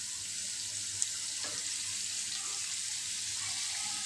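Pangas fish fries in oil in a pan, giving a steady, even hiss that stays close and constant, with one tiny click early on.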